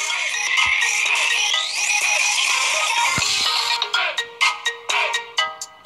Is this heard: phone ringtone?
yes